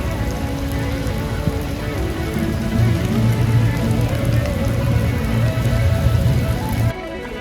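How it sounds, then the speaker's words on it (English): Light rain patters steadily on a surface nearby, a constant soft hiss with scattered drops and no voices. "Little rain, we're getting a little rain."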